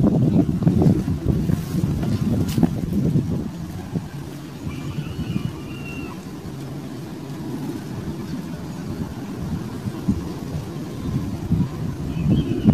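Strong wind buffets the microphone in a steady low roar, gusting harder at the start and continuing throughout without a break.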